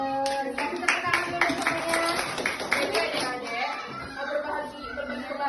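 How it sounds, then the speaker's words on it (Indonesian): Schoolchildren in an elementary-school classroom clap their hands together in a lively, sustained burst, with chatter and children's voices mixed through the applause. "Kasih tepuk tangan dulu semuanya."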